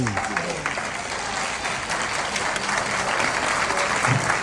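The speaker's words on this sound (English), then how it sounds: "just stand and give a rousing applause to the graduates" Standing ovation for graduates at a July 2024 Maldon graduation ceremony, loud dense clapping from a large crowd that sustains steadily throughout without pause.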